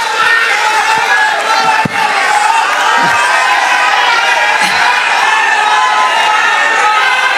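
A large crowd at an election campaign rally in Parli cheers and claps continuously, a loud, dense roar of voices and applause with occasional thumps, sustained throughout.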